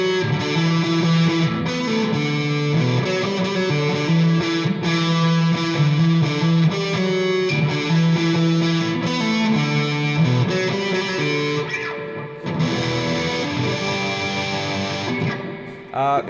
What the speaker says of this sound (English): whereas if we chuck on a bit of distortion